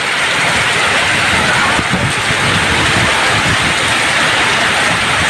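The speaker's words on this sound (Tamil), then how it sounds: "பலத்த மழையும் பலத்த காற்றும்" Heavy rain roars steadily with gusting wind, a dense, loud, unbroken wash of noise close around.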